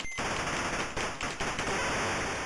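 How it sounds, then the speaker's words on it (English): Sustained rattling bursts of anti-aircraft flak fire in the Atari ST game Bomber Command, loud and dense with a few sharper cracks across the stretch, no voices. "and then I fly into some more flak"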